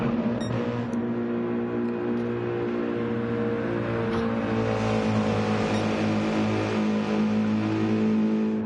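Race car engines drone steadily in a league race in a racing video game, a continuous layered whine of several motors holding high revs, loud and close with no pauses.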